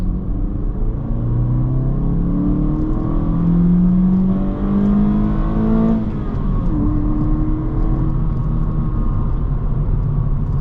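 A 2022+ Honda Civic 2.0 engine with a high-volume intake revs up in second gear through rising tones with a throaty growl, angrier above 4,000 RPM, pulling hard for several seconds before easing off, close and loud over road rumble.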